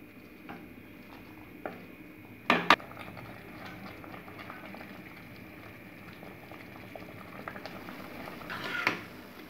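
A pot of rice and vegetables for pulao simmers on medium flame, bubbling quietly with soft steady gurgling and a couple of sharp clinks of a utensil against the pot.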